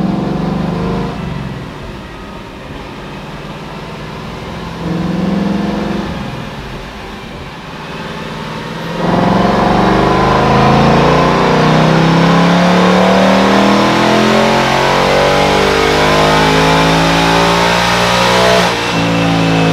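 A 2024 Ford Mustang Dark Horse with a dual-throttle intake and fitted air filters revs on a dyno, idling unevenly before opening into a loud, sustained full-throttle run with rising pitch, then cutting off.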